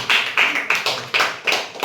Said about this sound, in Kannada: ಓಕೆ, ಚಪ್ಪಾಳೆ